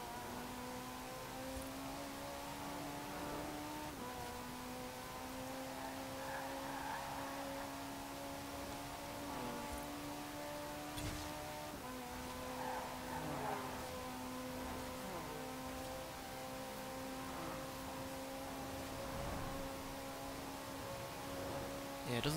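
A 1984 Ferrari 288 GTO in Forza Horizon 4 holds a steady high-speed engine drone, its pitch climbing in long stretches broken by brief gear-shift dips, with wind and road noise throughout.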